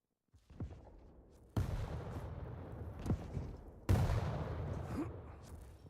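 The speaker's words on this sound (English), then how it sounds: "A lovely Rail shot there from Sirius." Railgun blasts in a Quake Pro League match. Two heavy, booming shots about two seconds apart, each with a loud sharp attack and a long rumbling tail, amid other game noise.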